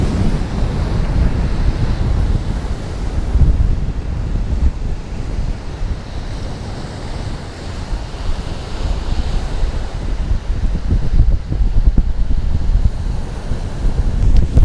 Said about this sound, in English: I'm gonna get off the beach because it's pretty windy out here